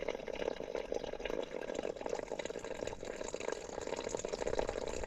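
Mountain spring water trickles into a container at a Himalayan meadow campsite, a faint, steady splashing fill with no talk.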